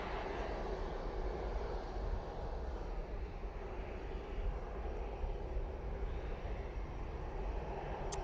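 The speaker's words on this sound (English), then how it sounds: "What an amazing takeoff that was." A jet airliner takes off at Manchester Airport, its engine roar loud, broad and unbroken throughout, with no voices over it.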